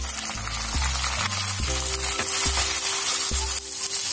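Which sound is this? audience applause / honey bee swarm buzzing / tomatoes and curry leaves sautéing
tomatoes and curry leaves sautéing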